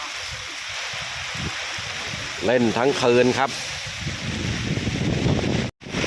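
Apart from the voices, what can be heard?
rain and strong wind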